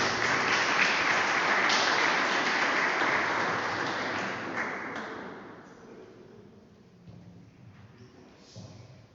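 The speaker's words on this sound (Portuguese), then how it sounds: "Vamos aplaudir a Deus." Church congregation claps for God during a service, a broad wash of applause that starts strong, gradually thins out after about four seconds and trails into quiet scattered sounds.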